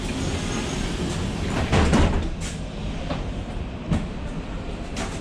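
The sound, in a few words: electric bus sliding doors closing at station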